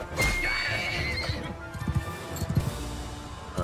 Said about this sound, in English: grab one of these war horses that are all around me